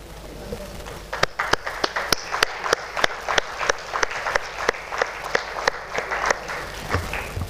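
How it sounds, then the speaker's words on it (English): The audience at an anaesthesia alumni and continuing medical education meeting applauds faculty members. Sparse claps build into steady, fairly rhythmic clapping that stays close and clear, with a little talk underneath. "A big round of applause for all these faculty"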